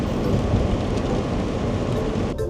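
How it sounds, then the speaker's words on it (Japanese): Heavy rain pounds steadily with a deep rumbling undertone like thunder, a dense, loud, continuous wash heard from inside a vehicle on a camping trip. "すごい降ってきたよ"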